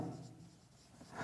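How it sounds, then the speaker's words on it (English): Marker or chalk strokes scratch steadily across a classroom board during a grammar lesson on affixes, a faint continuous rubbing with no talk. "Let me write here."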